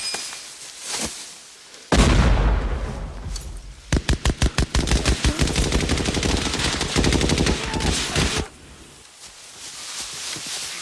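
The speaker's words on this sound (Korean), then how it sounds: "언덕의 마지막처럼 보이는 곳에 수류탄을 던져 벙커 위치를 확인합니다." A war-film battle on Guadalcanal hill erupts with a grenade blast against a bunker, followed by rapid machine-gun bursts and heavy gunfire, loud and close, then fading back to quieter ambience.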